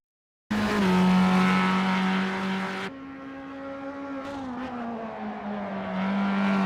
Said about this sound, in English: so I took out the Formula 3 car on Donington